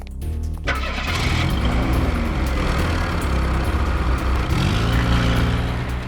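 A car engine turns over and catches, then runs with a steady rumbling idle, loud and close, with revving swells.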